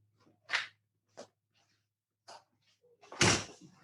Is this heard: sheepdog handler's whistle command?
no